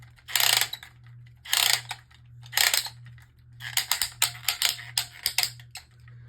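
A Beyblade Burst string launcher is cranked up in three separate bursts of ratcheting clicks. A faster run of rattling clicks follows, over a low steady hum.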